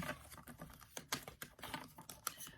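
Tarot cards are shuffled quickly at close range, a rapid run of soft riffling taps and flicks, fairly quiet.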